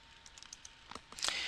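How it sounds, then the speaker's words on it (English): Light keystrokes on a computer keyboard as an item number is entered, a short run of soft, quiet clicks followed by a slightly louder burst of taps, with no talk. "Let me type in an item number."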